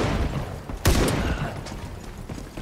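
Gunfire in the online shooter Ironsight: one sharp, loud shot bursts out mid-clip, followed by a quieter echoing report, over a busy game background with no talk.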